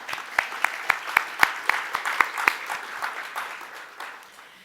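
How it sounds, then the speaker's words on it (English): A small group at a formal hearing on online harms claps in a sparse, rhythmic round, with distinct evenly spaced claps that gradually fade. "I'd give you a round of applause."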